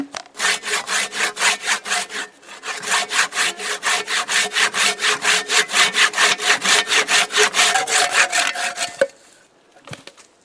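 Handsaw cutting through a piece of wood outdoors, steady rhythmic back-and-forth strokes, loud and close, running for several seconds with a brief pause before finishing and a final knock.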